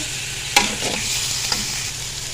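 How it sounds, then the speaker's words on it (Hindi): Chicken pieces for shami kabab fry in a pan with a steady, close sizzle, broken by two sharp clatters of stirring, one early and a fainter one later. "हम चिकन को पहले कर लेंगे फ्राई"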